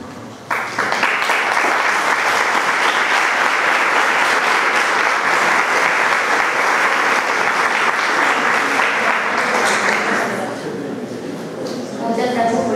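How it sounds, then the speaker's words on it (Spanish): Lecture audience breaking into sustained applause at the close of a psychology talk, a loud, dense, even roar of clapping that begins abruptly and fades after about ten seconds into murmuring voices. "Muchas gracias por el aplauso."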